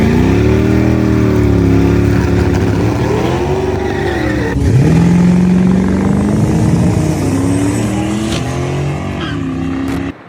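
Custom 2001 Harley-Davidson Sportster 1200 V-twin engine running loud and close, a steady rumbling idle that surges with revs partway through, with strong low harmonics.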